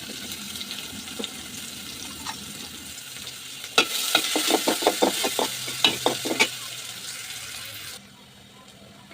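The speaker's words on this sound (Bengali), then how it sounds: "পেঁয়াজ ভাজা হয়ে গেছে," Chopped onion and garlic fry in oil in a pan, a moderate sizzle with a burst of stirring scrapes and clatter midway before it quiets, close by and without talking.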